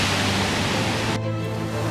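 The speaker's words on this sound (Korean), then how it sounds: "바람 한 점 없던 갈도에 갑자기 거센 바람이 불기 시작했다" Strong wind gusting over Galdo island with high waves crashing, a loud, steady broadband roar that drops off abruptly partway through, leaving a quieter rushing hiss.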